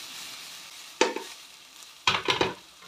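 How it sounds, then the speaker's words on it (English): Garlic ginger paste being stirred into golden onions frying in a pan, with a soft sizzle under a few distinct scraping strokes of the spoon, one alone and then a quick cluster of three. "So in goes 2 teaspoons of garlic ginger paste. And stir that in."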